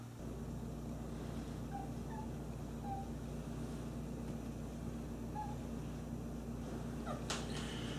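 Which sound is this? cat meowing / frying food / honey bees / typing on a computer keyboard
cat meowing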